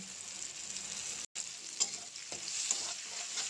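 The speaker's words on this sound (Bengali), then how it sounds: "মশলা ভাজি হয়ে গেছে, মশলা থেকে তেল ছেড়ে দিয়েছে" Spices frying in hot oil in a pan, a steady close sizzle with occasional scraping stirs, and a short gap partway through, no talk.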